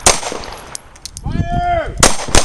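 Pistol gunshots at a self-defense shooting practice, two sharp loud reports close by, one at the start and one near the end, with a person's voice heard in between.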